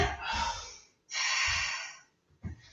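Heavy breathing after Pilates exercise indoors: two long, loud breathy exhalations and a shorter one, each a rushing burst with pauses between, close and alone with no talk.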